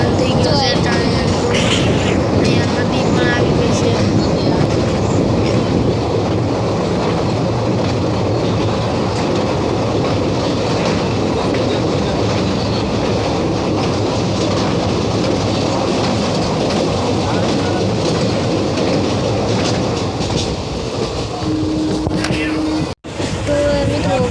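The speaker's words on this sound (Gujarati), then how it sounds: "જોઈ શકો છો મિત્રો આપણી ટ્રેન જાય છે" A train rolls past close by at Maliya station, a steady loud rumble with clattering wheels running throughout, with faint voices beneath.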